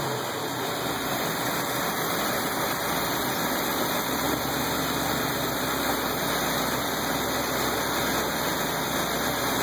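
A carbureted 350 Chevrolet V8 idles steadily just after its first start, with a constant rough engine rumble and broadband roar that holds unchanged throughout.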